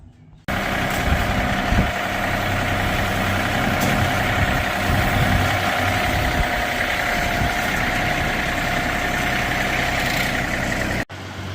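A tractor engine idles close by at a steady low rumble, cutting in sharply and holding an even drone before stopping abruptly, out in a farm yard during a wagon project.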